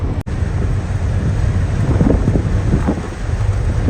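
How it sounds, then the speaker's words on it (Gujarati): Heavy rain pours down in a dense, loud roar with low rumbling thunder beneath it, heard from a truck on a road near a river, with wind buffeting the microphone and a brief dropout near the start. "વરસાદ પડી ગયો ફૂલ ગજબ નો"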